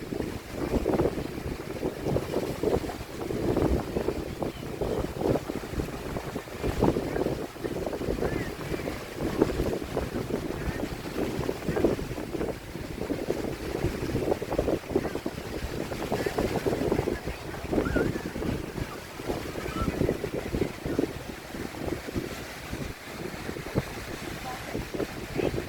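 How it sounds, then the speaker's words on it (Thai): Strong sea waves and gusting wind at Bang Saen beach in Chonburi on a windy evening, a steady rushing wash of surf with wind buffeting the microphone throughout. "คลื่นแรงนะเสียงคลื่นดังดีจัง"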